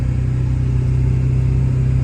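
A Ford F350 pickup with an 8-inch lift cruises while towing a trailer, its engine a steady low drone from inside the cab with faint road noise and no talking.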